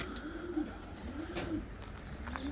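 Breeding pigeons coo repeatedly in an outdoor loft, soft rolling calls at moderate distance over a steady background hum, with no speech.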